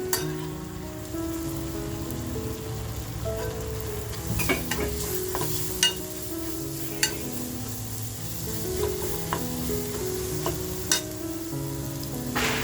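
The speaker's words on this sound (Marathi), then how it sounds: "आता जो कांदा कापून घेतला होता तो कांदा टाकते" Chopped onions fry with turmeric in a hot pan, giving a steady close sizzle with occasional louder crackles and stirring scrapes throughout, no voices over it.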